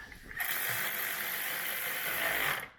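Ratchet fitted with a 13mm socket runs side step bolts on a new Land Rover Defender L663 110, giving a close, fast, continuous clicking whirr for about two seconds before it stops abruptly.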